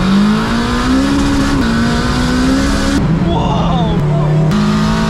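A turbocharged Honda Civic with a K20A2 engine pulls away hard, its engine note rising steadily across two gears with a brief shift dip, loud and close from inside the car.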